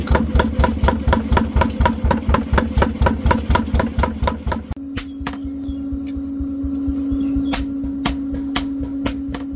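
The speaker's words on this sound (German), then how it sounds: "Hier sieht man das Gebläse, womit die Kohlen auf Temperatur gebracht werden." A homemade blower feeds air into forge coals for knife forging. A loud, rhythmic pulsing engine-like throb runs for a few seconds, then gives way to a steady droning hum with occasional sharp clicks.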